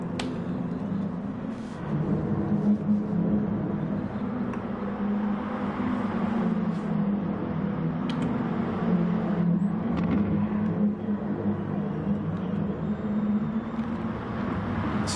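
Audi TT race cars in GT Sport at Catalunya hold a steady, loud engine drone with a lower hum underneath, broken by a few sharp clicks and shifts as the pack drives on.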